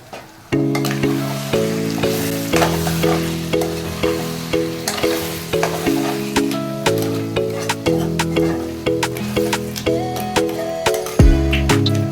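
Crab curry gets stirred with a ladle in a pot, giving repeated rhythmic scraping and clinking strokes over a low sizzle, loud and close, with no talking.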